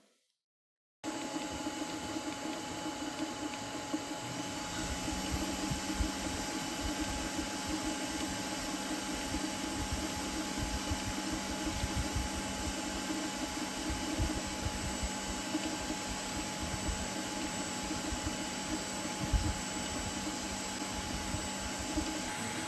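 Comgrow T500 large-format Klipper 3D printer runs a print, a steady whirring fan hum with busy mechanical motor rattling throughout, constant and moderately loud after a brief silent start.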